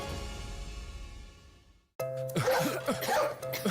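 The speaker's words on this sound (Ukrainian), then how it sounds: "Хто тут у нас кашляє?" After a moment of near silence, a child coughs several times in quick succession, close and fairly loud.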